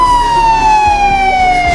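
Police car siren sound effect, a loud, continuous wailing tone that slowly sinks in pitch over a low traffic rumble, alone without any voices.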